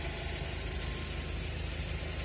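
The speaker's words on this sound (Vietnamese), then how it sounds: "máy nổ thì thầm luôn quý vị nhá" A 2010 Ford Escape XLS engine idles with a steady, quiet, even hum and light mechanical hiss, close by and with no talk over it.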